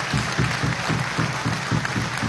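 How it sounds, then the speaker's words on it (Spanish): A crowd applauding steadily at the installation of Venezuela's National Assembly in 2015, the clapping pulsing in a loose rhythm throughout, with no voices standing out. "Un aplauso para Darío y Blanca de Cao"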